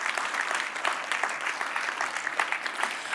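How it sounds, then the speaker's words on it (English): Steady, dense clapping from an audience at a conference showcase, honouring presenters who appeared on stage, a continuous even wash of many hands throughout. "Can I ask for a big, big round of applause for all of the presenters that we had here on stage?"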